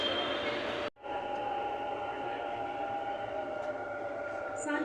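A Bangalore metro train running between Baiyappanahalli and Sandal Soap Factory station: a steady interior rumble and hum with faint tonal whine, briefly dipping near the start, then continuing evenly with a short high chime toward the end.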